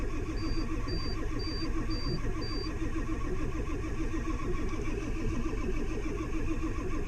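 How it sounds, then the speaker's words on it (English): A gin pole truck's engine cranks slowly on weak batteries, a steady, labored rhythmic churning held close and constant throughout, with a few short high beeps chirping early on. "and it's cranking slow."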